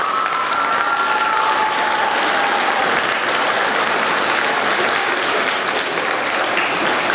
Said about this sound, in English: A round of applause for quarter 3 academic excellence.